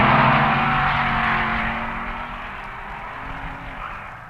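At the 1961 NHRA Winternationals, a 409 cubic inch Chevy Super Stock drag races a Ford, its loud engine roar droning steadily before slowly fading as it draws away.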